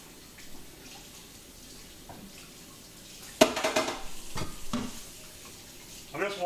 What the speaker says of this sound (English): Scrambled eggs ASMR.